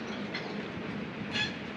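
A goods train passes below, heard as a faint, distant steady rumble with a couple of brief higher squeals from the wheels.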